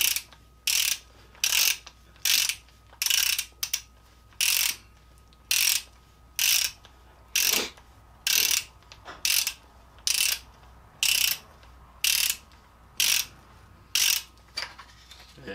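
Ratchet loosening the fork cap on a Yamaha V-Star 1300 motorcycle, clicking in about fifteen evenly spaced short bursts, close and clear with quiet gaps between them.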